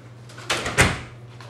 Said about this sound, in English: Shut my goddamn door when you come into my apartment.